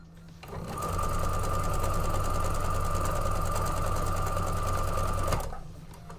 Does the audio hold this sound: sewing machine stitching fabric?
yes